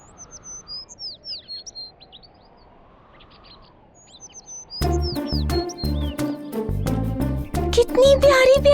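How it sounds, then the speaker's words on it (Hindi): Tiny birds chirp in high, quick twittering bursts, first alone over a quiet background, then over loud music with a voice. "वो देखो कितनी सुंदर चिड़िया। कितनी छोटी छोटी है।"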